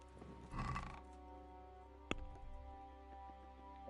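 A horse in Kingdom Come: Deliverance gives one short whinny, followed by a single sharp hoof knock and a few soft clops, all quiet over sustained background music tones.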